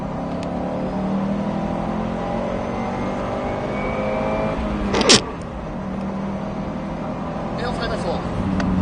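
A Subaru WRX STI accelerating as the turbo comes in, heard as a steady, loud engine drone from inside the car with one brief sharp transient midway, while a voice talks over it.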